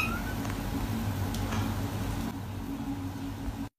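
A house cat meows softly near the sound source, a couple of short thin calls over light background hiss, with no talk.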